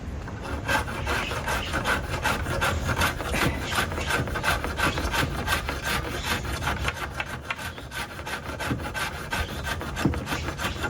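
A hand file rounds over wooden edges with steady, rhythmic rasping strokes, close and fairly loud, continuing without pause and with no voices.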